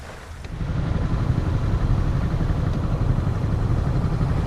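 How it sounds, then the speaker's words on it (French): Sailing boat motoring at sea along the coast near La Ciotat, with a steady low engine drone rising slightly at the start and holding a constant, fairly loud hum. "ça fait une bonne heure et demie qu'on est au moteur"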